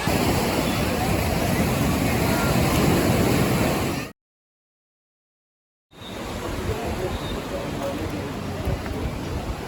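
Waves breaking on a beach in south Kerala at sunset, a broad continuous wash of surf with some wind noise across the microphone, briefly cut to silence midway before the surf resumes.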